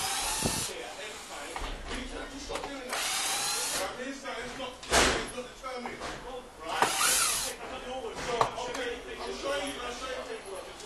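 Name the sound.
power drill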